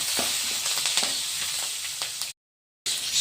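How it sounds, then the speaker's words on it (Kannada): Chana dal, urad dal and green chilies fry in oil in a pan with a steady close sizzle and occasional stirring clicks, then cut off briefly before the hiss resumes. "ಕಡಲೆಬೇಳೆ ಉದ್ದಿನಬೇಳೆ ಎಲ್ಲ ಚೆನ್ನಾಗಿ ಫ್ರೈ ಆಗಿದೆ"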